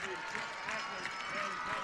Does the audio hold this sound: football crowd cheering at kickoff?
yes